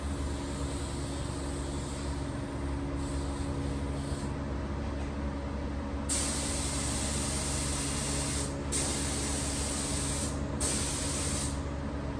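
Clear coat sprayed from a can onto custom-painted Mazda Miata NB taillights: a steady, close hiss runs throughout, broken by short bursts that swell louder and cut off, with no talking.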